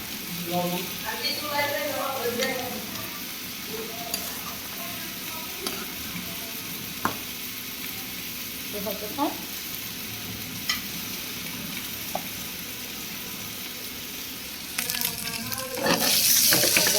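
Potatoes and tomato fry in a pan with a continuous sizzle and occasional stirring clatter, while someone talks over it in places; the frying swells louder near the end.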